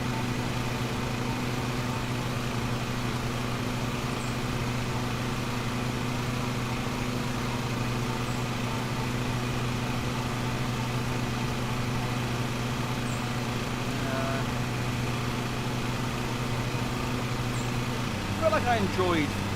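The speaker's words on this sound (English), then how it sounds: "I'm revving too much, I'm going to tear up the lawn." A riding lawn mower engine in the video game Lawn Mowing Simulator holds a steady droning hum, with a brief rise and shift in pitch near the end, and no talk over it.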